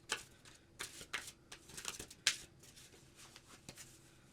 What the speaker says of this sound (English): now I've learned how to shuffle this way